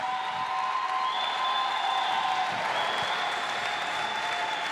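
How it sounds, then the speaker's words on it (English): Sustained applause from a basketball audience at a final between Mainland Pouākai and Whai, a dense steady wash of clapping that holds at an even level throughout with a faint tonal whine above it. "One more round of applause, please, for your very deserving finalists"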